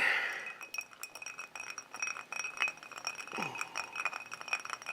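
Glass clinking as a finger stirs Old Fitzgerald 7 Year bottled-in-bond bourbon in a tumbler, light rapid ticks and clinks, faint and close, with no talking.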